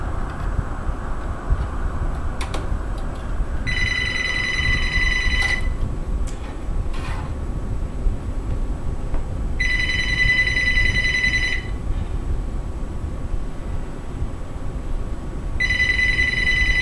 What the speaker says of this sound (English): Sorry, my phone's ringing in the background.